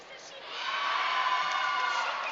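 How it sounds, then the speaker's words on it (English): A crowd at a provincial lead and top-rope climbing finals swells into cheering and excited shouts, building quickly and holding as a dense, fairly loud roar. "You can hear the crowd's reaction."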